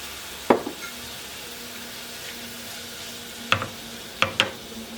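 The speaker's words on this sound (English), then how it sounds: "Then we're going to add the beef and the juices back in." Beef and its juices sizzle steadily in a pan for a Mediterranean casserole, the loud frying hiss punctuated by a few sharp utensil knocks against the pan, with no talking.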